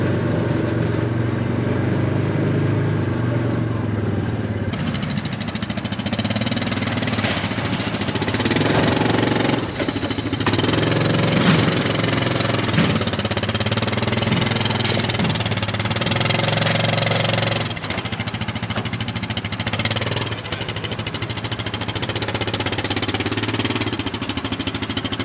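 A new UTV's engine runs steadily while driving around a 22-acre property, a loud continuous rough drone with small dips and swells in throttle throughout.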